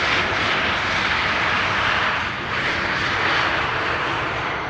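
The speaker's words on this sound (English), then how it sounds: "Swiss arrived from Zurich. And that's an 8220 or Bombardier C-Series 300." Swiss Airbus A220-300, also called the Bombardier C-Series 300, arriving at Amsterdam Schiphol Airport from Zurich, a loud broadband jet engine roar that stays steady and close with a slight swell midway, no voices.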